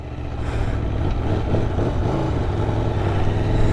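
A 2023 Aprilia Tuono V4 Factory motorcycle in race mode accelerates hard, its V4 engine giving a loud, steady, rising roar that builds toward the end with no talk over it.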